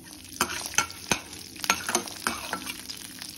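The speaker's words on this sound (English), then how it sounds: "Frying the chana dal." Chana dal fries in oil with a steady sizzle, with sharp clinks of a spoon stirring the pan at irregular intervals, close up.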